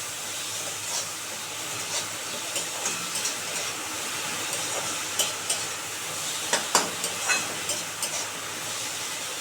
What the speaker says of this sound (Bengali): এক মিনিট ভেজে নেবো এটা